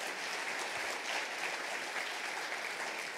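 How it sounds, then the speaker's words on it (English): A conference audience greets speaker Yiğit Konur with loud, dense, continuous clapping that holds steady throughout. "Please, everyone, give him a huge round of applause."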